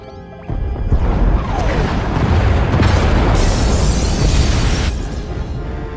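Pod bays explode in the Star Wars: The Old Republic game with a loud, close boom, followed by a rumbling, crackling roar that slowly fades.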